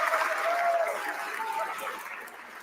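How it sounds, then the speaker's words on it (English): A distant crowd cheers and applauds in a broad, steady wash during a SpaceX Starship Flight 11 launch broadcast, fading slightly toward the end. "What are they cheering for right now?"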